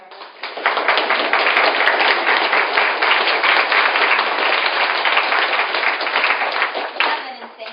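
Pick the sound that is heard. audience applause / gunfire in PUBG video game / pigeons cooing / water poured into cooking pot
audience applause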